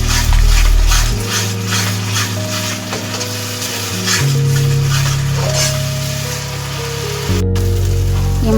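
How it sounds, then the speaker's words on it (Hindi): Spice masala sizzling steadily in hot oil as it is stirred for a raw banana curry, with a continuous loud fry and occasional scraping shifts, no talk. "जब तक इन मसालों को अच्छे से भून लेना है।"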